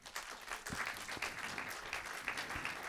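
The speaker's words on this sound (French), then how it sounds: "vous pouvez tous les applaudir" Audience applause at a conference on violence against women held at the Assemblée Nationale in Paris: steady, moderately distant clapping from a seated crowd, even and sustained throughout.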